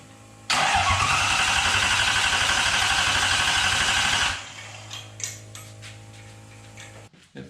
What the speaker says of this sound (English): It fired off a couple of little sputters